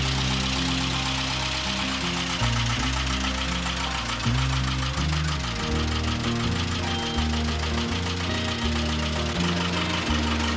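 A boat engine runs steadily on the Shivsagar reservoir, a loud, continuous low mechanical drone with a knocking pulse that holds throughout, with no voices.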